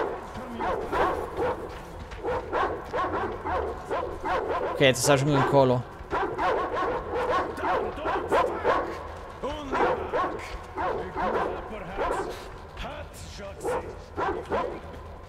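Dogs bark and yip repeatedly in the video game Metro Exodus, sharp and close with some whimpering, while someone talks over them.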